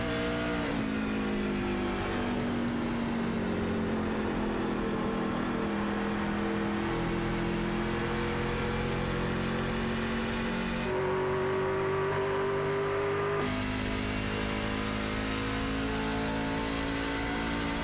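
Racing trucks roar around the Motegi circuit in a video game race, engines droning steadily with pitch shifting up and down through gear changes, a continuous close, loud motor note with no talk.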